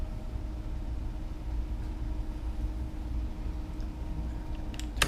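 A trolling motor mounted on the back of a Pelican Catch 120 kayak runs with a steady low hum and a faint ticking, close by. A short knock comes at the very end.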